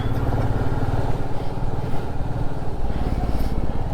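A motorcycle engine drones steadily while riding on a road in cold weather, loud and close, its rough, even hum holding without breaks and with no talking.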